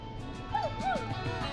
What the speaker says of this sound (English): It's my neighbor's dog.